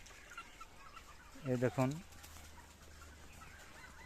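Sonali chickens cluck in a burst of several quick calls inside a netted grass pen, moderately close, with a brief spoken voice and low background noise around them.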